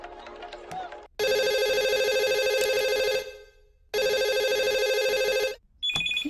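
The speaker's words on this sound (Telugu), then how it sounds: "ఫోన్ ఏంటి ఎంగేజ్ వస్తుంది?" Telephone ringing in a Telugu comedy scene, two long repeated electronic ring bursts with a short gap, then a brief third tone, with faint voices before the rings.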